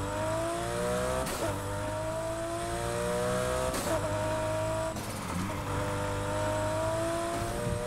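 Car with a 3.6-litre boxer six-cylinder engine in the game Need for Speed Heat revs hard and steady through repeated upshifts, each rising whine dropping back at a gear change, with faint tire squeal over a constant loud drone.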